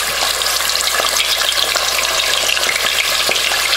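Chicken drumsticks for buffalo wings frying in hot oil, a loud, dense, steady sizzle with scattered small pops, close up and without voices.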